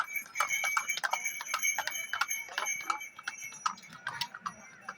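Horse hooves clip-clop on a hard surface in a quick, irregular rhythm of sharp clicks. The clicks are fairly close, moderately loud and heard without talk.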